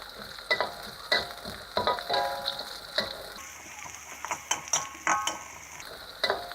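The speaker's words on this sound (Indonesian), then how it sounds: "tumis sampai harum. Kita masukkan juga bawang bombay, cabai besar" Garlic, onion and large chilies sauté in an oil-filled pan, giving a steady close sizzle broken by frequent sharp clicks and taps of a spatula stirring against the metal.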